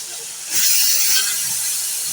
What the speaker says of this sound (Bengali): এখন আমি দিয়ে দিচ্ছি মাছ।